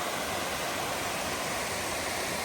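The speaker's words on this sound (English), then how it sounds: "Really nice slide style waterfall." Upper Courthouse Falls, a slide-style waterfall in the Balsam Grove, North Carolina woods, sends water sheeting down rock into a narrow pool, a constant close broadband rush with no pauses.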